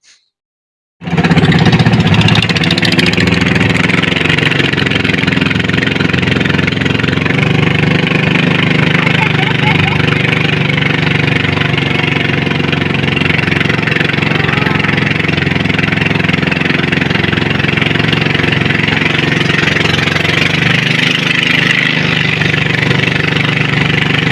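A boat motor drones loudly and steadily throughout, starting abruptly after a brief silence and running without pause, on a river near Wawa Dam, Rodriguez, Rizal.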